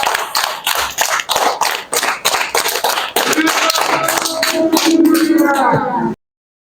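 Audience applause at a church gathering, rhythmic bursts of clapping that swell into sustained loud clapping before stopping abruptly, with voices mixed in.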